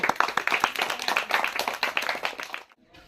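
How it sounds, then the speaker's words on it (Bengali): A group claps hands together in lively, dense applause for a couple of seconds at the start of a panipuri eating contest, then it stops abruptly and goes quiet. "সবাই জোরে একটা হাততালি হবে"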